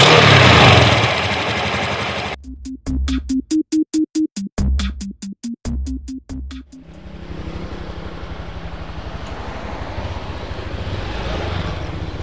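Motorcycle engine on a test ride, loud close engine noise and wind at first, then a stretch of sharp rhythmic pulsing bursts before settling into a steady rumbling drone with road and wind noise.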